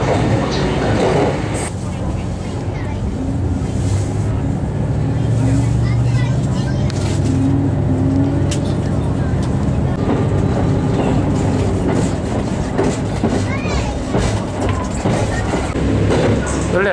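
Diesel limited express train Hamakaze running through Ikuno Pass on the Bantan Line, a continuous loud rumble and rattle of railcars from inside the carriage, with a voice speaking over it.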